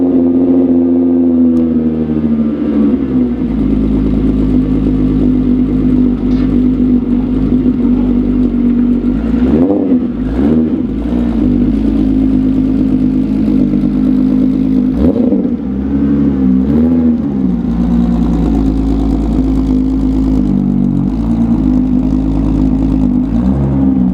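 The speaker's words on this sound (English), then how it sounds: "I'm gonna pull the car back into the light and air it out." A car fitted with Savoy wheels and air suspension runs with a loud, steady engine hum as it is pulled slowly forward, with a few brief surges and dips in the note.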